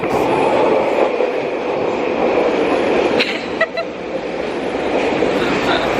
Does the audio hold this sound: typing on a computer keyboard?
no